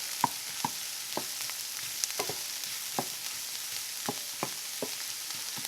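Garlic frying in a pan, a soft continuous sizzle broken by irregular small pops and taps of stirring, close but fairly quiet.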